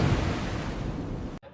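Rushing flood water from a swollen river in a 3D animated story, a loud, dense, steady roar of surging water that cuts off abruptly at the end, with no talking.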